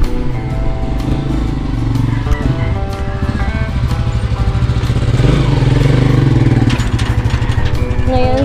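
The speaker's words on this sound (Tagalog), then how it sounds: "At ngayon pinapandar na po ni Jandel yung motor mga kamuning" A motorcycle engine started and left running at a house gate in Davao, a loud, close, steady rumbling idle with rising revs, a voice talking over it briefly.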